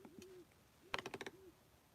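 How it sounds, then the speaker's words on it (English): An owl calls outdoors at night, two soft hooting coos followed by a short burst of rapid pulsed notes, faint and distant against quiet background hiss. "Can you hear that owl?"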